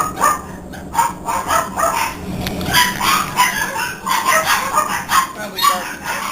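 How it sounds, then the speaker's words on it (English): A dog barks repeatedly in a busy domestic setting, several sharp barks close by mixed with clucking fowl and background clatter. "Probably barking at a cat."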